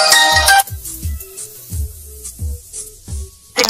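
A phone rings with an incoming verification call to a virtual SIM number: a repeating electronic ringtone pattern of short pulsed bursts, loud and close, with no talking.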